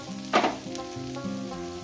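Small mola fish frying with chopped onion in a pan, a soft sizzle with a brief stirring scrape, close and alone.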